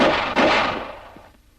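Two loud pistol shots at shooting practice crack close by, the second about a third of a second after the first, each followed by a long reverberant decay that fades out.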